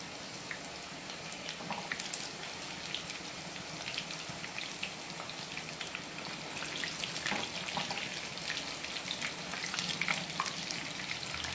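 Papdi, a wheat flour snack, fries in hot oil with a busy crackling sizzle and scattered pops and bubbling, steady and close, with no talking.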